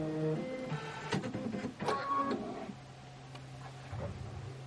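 An embroidery machine stitches out a fill design, a rapid mechanical ticking and whirring that runs steadily at moderate volume, busier at first, then settling into a lower hum.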